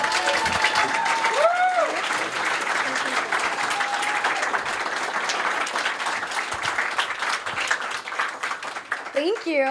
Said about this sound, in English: Ladies and gentlemen, give a big round of applause for Miss Lindsey Renee.